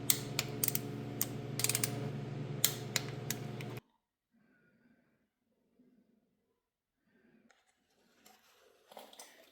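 Screws on a Harley Sportster are tightened with a torque wrench, close ratcheting clicks in quick bursts for several seconds, then near silence with a few faint rustles.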